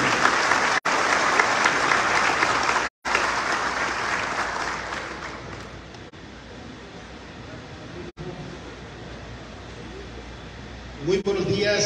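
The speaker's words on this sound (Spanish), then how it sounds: "¡Fuerte el aplauso!" Loud applause fills a solemn municipal council session for a mayor's second government report, strong at first with brief cuts, then thinning and fading toward the end as a voice begins.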